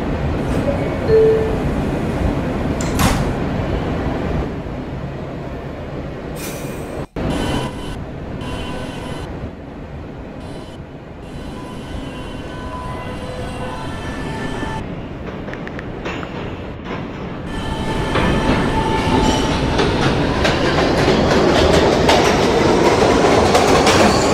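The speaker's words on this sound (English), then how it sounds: "This is a Union Turnpike bound B train via the K line" A New York City subway B train runs along the line, rattling and clattering with wheel squeals; the noise dips mid-run and then swells louder toward the end, with faint voices mixed in.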